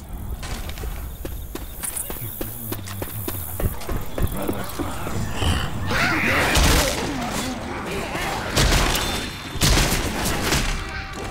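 Rapid gunfire rattles through Left 4 Dead 2 combat, a fast run of close, sharp shots with clatter and impacts piling into a loud, dense burst.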